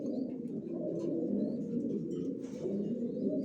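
Pigeons coo steadily in a loft housing large racing pigeons, a continuous low throaty murmur from several birds close by, with faint chirps above it and no talking.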